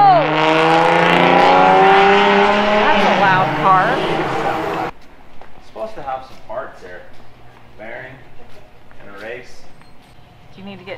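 A loud car engine roars and revs close by for about five seconds, then cuts off, followed by people talking.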